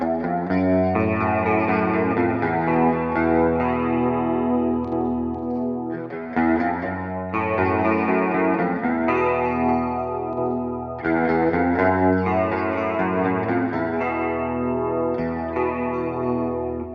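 Electric guitar played through a chorus effect pedal on its sine wave setting, loud and shimmering, with strummed and picked chords in a loose, rhythmic pattern and a wavering, doubled tone.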